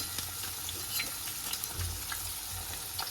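Egg frying in a pan with chow mein, a dense continuous sizzle with light stirring scrapes close by, steady throughout.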